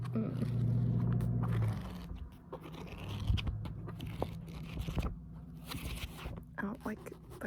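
A library book's cover is handled up close, producing soft scraping, crinkling and rubbing sounds in irregular bursts with faint traffic rumble in the background, while a person speaks quietly at times.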